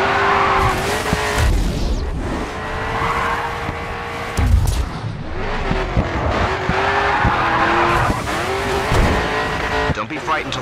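A race car in GRID 2 howls at full throttle, its engine note rising and dropping through gear changes while the tires squeal and skid through the corners, with a voice talking over the engine throughout.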